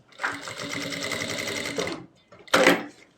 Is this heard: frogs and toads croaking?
no